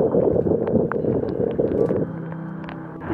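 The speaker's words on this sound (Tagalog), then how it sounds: "sa malakas na hangin." Strong typhoon wind buffets the microphone in a continuous loud roar, gusting through bamboo and thick rope lashings, with brief knocks and rattles scattered throughout.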